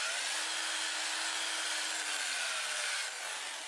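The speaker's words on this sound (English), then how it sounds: "I'll just sand those before I start spinning the lathe" Black oak being sanded with an 80 grit 2-inch disc, a continuous close abrasive hiss and rub with a faint steady whine beneath, easing slightly near the end.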